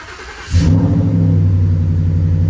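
A Ford F150 truck engine cranks and catches after a quiet half second, then settles into a loud, steady low rumble close by, with no talking.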